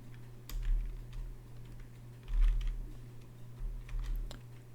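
Soft, steady keystrokes patter on a computer keyboard at a close, quiet level as C++ code is typed, under a low constant background hum with no talking.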